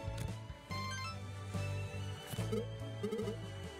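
Phone ringing in the video game Dodgeball Academia, a repeating electronic ringtone with a melodic pattern playing over game music, fairly quiet.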